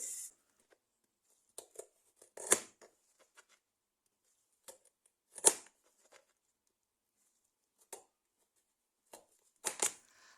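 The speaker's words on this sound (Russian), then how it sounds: "Затем очищаю морковь, мою ее, разрезаю на кусочки и отправляю к капусте." A carrot being cut into pieces for a pickled vegetable platter: sparse, sharp knife chops and clicks separated by quiet gaps, close and fairly faint, no talking.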